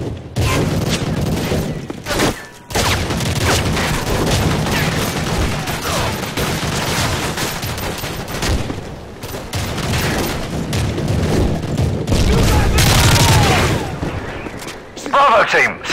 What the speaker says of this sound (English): Lay down covering fire so we can move up the road!